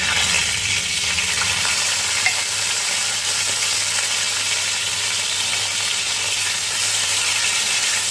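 Slit green chillies and dried red chillies fry with nigella seeds in a little oil, giving a steady, close sizzle with faint stirring and no talk.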